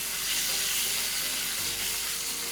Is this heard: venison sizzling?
yes